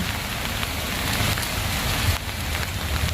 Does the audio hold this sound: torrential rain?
yes